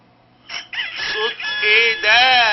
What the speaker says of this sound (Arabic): الديك بيدن ويقول كوكو كوكو